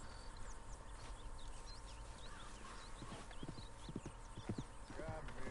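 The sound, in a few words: wild horse in Red Dead Redemption 2 video game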